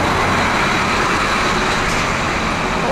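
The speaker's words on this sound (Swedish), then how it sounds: "Första bussen." A bus rumbles past at Gullmarsplan, a loud, steady engine drone and road roar filling the scene with no pauses or voices.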